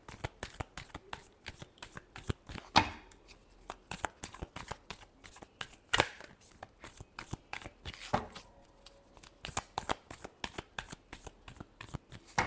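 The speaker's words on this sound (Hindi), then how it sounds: "last shuffle" Tarot cards are riffled and shuffled by hand, a rapid crisp flutter of card edges repeating in bursts with a few sharper snaps, close and clear with no voice over it.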